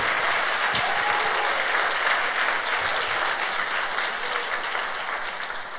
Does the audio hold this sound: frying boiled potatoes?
no